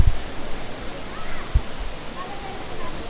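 Sprite Falls waterfall in Majayjay, Laguna, a steady broadband rush of falling water from nearby, with a few low thumps breaking through the constant roar.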